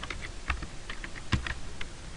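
Quick, light clicks of typing on a computer keyboard, irregular keystrokes with a few sharper taps, fairly quiet and close, with no voices.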